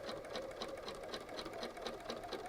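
Sewing machine running a seam around elastic on a fabric composition notebook cover, giving a quiet, even, rapid stitching patter with a steady rhythm throughout.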